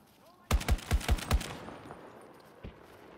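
Gunfire in Battlefield 2042, a quick burst of five sharp close shots in a fast, even rhythm, then a single fainter shot a moment later.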